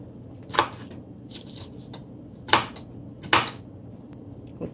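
A knife chops a small piece of pepper on a board, with four crisp, separate knocks spaced unevenly, close and clear over faint kitchen background, for breadfruit fritters.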